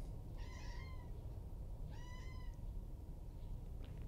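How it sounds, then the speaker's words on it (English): A pet cat named Lucy meows twice, two drawn-out, clear calls a second or so apart, heard indoors over a steady low hum with no talking. "You're making a lot of noise, Lucy."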